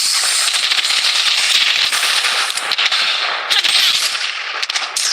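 Dense, continuous gunfire in the battle royale game Blood Strike, rapid automatic bursts rattling close and loud without pause, briefly thinning out before resuming.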